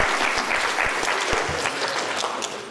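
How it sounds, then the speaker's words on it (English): An audience applauds at a morning talk in the Big Rock on the Map series at University of Arkansas Pulaski Tech, with dense, steady clapping filling the room throughout. "Give yourselves a hand for being here."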